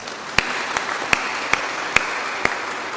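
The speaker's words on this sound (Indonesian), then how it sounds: "Tepuk tangan." Congregation applause at the opening of the Archdiocese of Semarang synod, a steady hall-filling wash of clapping with a few sharper claps standing out at intervals, no speech over it.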